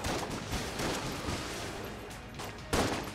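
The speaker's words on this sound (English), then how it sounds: "I'm gonna use the shotgun a bit" Shotgun blasts in the bullet-hell game Enter the Gungeon come as a dense, continuous barrage of gunfire. A sharper, louder burst lands near the end.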